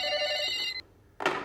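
Parallel telephone line bells ringing through a house, an electronic ringtone with bright sustained tones that stops abruptly, followed by a short burst of noise after a brief silence.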